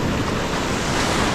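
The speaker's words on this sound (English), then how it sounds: "I cannot get a break on the waves" Ocean waves surging onto a beach as the tide comes in, a loud, steady roar of churning surf mixed with wind buffeting the microphone, with no talking.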